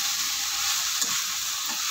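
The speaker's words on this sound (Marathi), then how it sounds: "त्याने गॅस मोठा ठेवला आणि तुपावरती कैरी आपण एकदम चांगली परतून घ्यायची" Grated raw mango sizzles and fries in ghee over a high flame, a steady close hiss with a soft stir or scrape near the middle.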